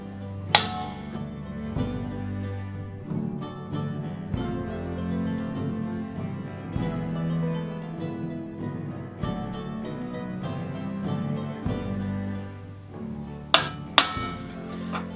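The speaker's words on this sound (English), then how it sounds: "trying to get that center punch as close to the middle of that rivet as possible" A hammer strikes a center punch on rivets of an Ursus chinstrap, giving sparse, fairly quiet metallic taps scattered across the stretch, with a few sharper louder hits near the end.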